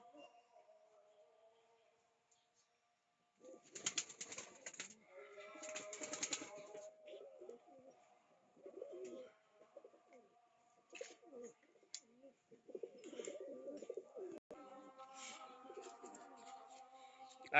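Punjab pigeons in a loft of about forty pairs coo softly and repeatedly, with occasional bursts of wing flapping and scuffling, all fairly faint and close by.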